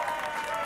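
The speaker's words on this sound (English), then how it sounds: "I am currently clapping behind the camera." One person claps hands off camera during a podcast recording, a soft, steady patter heard fairly close.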